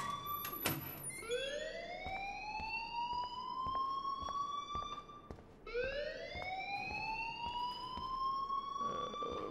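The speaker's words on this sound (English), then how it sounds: "please turn off that alarm" A school alarm in the video game Life Is Strange wails in two long rising electronic sweeps, loud and steady, with no voices.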